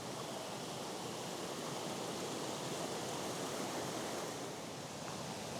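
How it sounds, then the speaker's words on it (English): Water rushing down a moorland stream near Hordron Road between Langsett and The Flouch in Yorkshire, a steady, dense, unbroken wash of noise with no voices. "there looks to be plenty of water coming down this particular stream"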